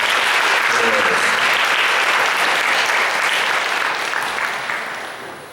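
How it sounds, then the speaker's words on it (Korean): A church youth-service congregation claps warmly in steady, dense applause that fills the room, then slowly fades out over the last couple of seconds. "잘 다녀오라고 뜨거운 박수로 응원하겠습니다"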